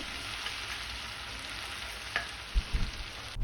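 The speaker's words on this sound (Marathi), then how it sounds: "आलं लसूण आपल्याला तेलामध्ये छान असं परतवून घ्यायचं आहे" Green chilli, curry leaves and crushed ginger and garlic sautéing in oil, a soft continuous sizzle throughout with a few low knocks of a spoon near the end, close but quiet.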